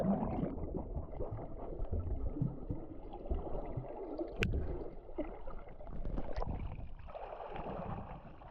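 A swimmer wades into salty sea water at Nyköping, producing sustained gurgling and sloshing with muffled water movement and a few brief splashy accents.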